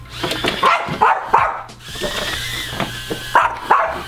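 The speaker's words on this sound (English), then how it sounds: "So bark just a few times, 2 or 3 times." A dog barks repeatedly nearby, several sharp loud barks in quick bursts, alongside the whine of a small RH807 mini quadcopter drone's motors.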